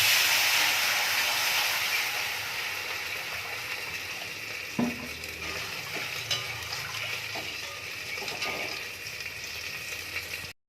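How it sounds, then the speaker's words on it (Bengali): Fish curry broth with turmeric coming to a boil in a pan, giving a steady, close hissing sizzle with faint bubbling and a few small knocks, no talk. "ঝোল ফুটে গেছে"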